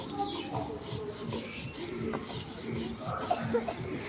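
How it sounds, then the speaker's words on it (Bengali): A soft, continuous gritty rubbing and rasping, close and quiet, as mustard seeds are ground to a paste with a little water for a chalta pickle. "এবার সর্ষেটাও আমি বেটে নিচ্ছি। একটু জল দিয়ে একটু নরম করে বেটে নেব।"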